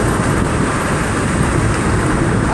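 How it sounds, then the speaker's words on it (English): Wind rushing in through the open windows of a car driving at 60 mph, a loud steady roar of air and road noise that stays constant throughout, with no one speaking. "you're hearing the wind coming in my car at 60 miles an hour"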